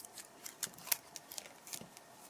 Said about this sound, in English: Let's remove this tape and see.